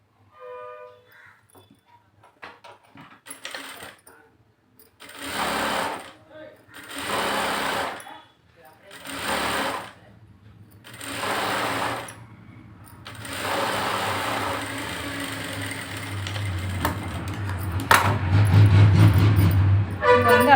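Sewing machine stitching down folded puff sleeve fabric, running in several loud, close bursts with short pauses between, then a longer continuous run, while someone talks between and over the stitching.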